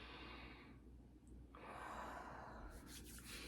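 A long, slow inhale and exhale through hands cupped over the nose and mouth, with oil warmed between the palms. The breathing is soft and airy, a faint rushing breath heard close up with no talking.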